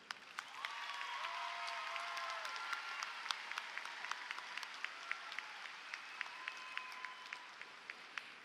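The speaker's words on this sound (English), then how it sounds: "So please help me in applauding your parents, your guardians, and your extended families at this time." Faint, steady applause from an audience honoring parents, guardians and families at a 2018 Samuel Clemens high school commencement, spread across a large space with scattered sharper claps standing out.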